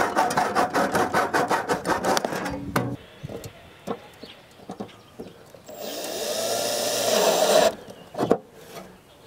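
A saw cuts through an aluminum rain gutter downspout during a rain barrel installation. Quick rasping back-and-forth strokes give way to a longer continuous grinding cut, all fairly faint and with no talking.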